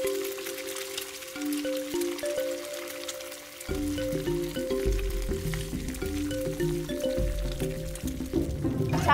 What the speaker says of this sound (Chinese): 对对对，煎一下，两面煎啊